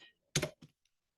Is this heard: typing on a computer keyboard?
yes